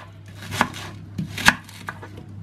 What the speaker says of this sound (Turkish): Bir soğanımız var. Bunu doğrayayım, yıkayayım.